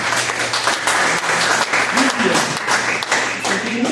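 Applause from a church congregation for a woman, a steady burst of clapping from many hands lasting the whole moment, fairly loud and close with a faint voice briefly underneath.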